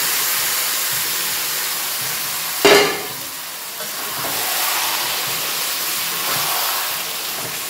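Marinated mutton hitting hot oil with fried onions in a pan, a sudden loud sizzle burst that settles into a steady broad hiss of frying, occasional stirring, no voices.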